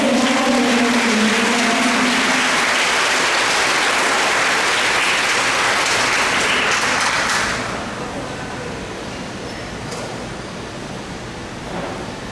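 Loud, dense applause from a large crowd at a school graduation ceremony fills most of the clip, then drops to a softer, thinner clapping toward the end.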